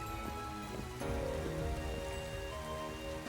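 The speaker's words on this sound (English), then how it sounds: "especially since it's raining" Steady rain falling in the video game Pokémon Crown Tundra, a continuous dense patter of drops with faint music underneath, even in loudness throughout.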